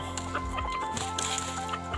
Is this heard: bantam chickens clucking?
yes